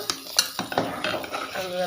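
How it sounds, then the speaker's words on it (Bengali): Potato being stirred into khichuri in a cooking pot, a few sharp spoon scrapes and clinks against the metal over a soft ongoing sizzle, close and alone. "এবার খিচুড়ি এবার এতে আলুটা দিয়ে দেবো"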